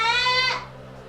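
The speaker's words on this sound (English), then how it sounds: "that's the goat screaming to get let back in" A goat bleats loudly once, a strained harmonic cry held for about half a second before it fades out, heard up close in a farm setting with no talk.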